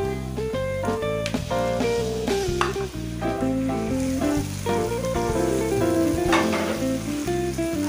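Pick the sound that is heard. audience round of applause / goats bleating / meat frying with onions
meat frying with onions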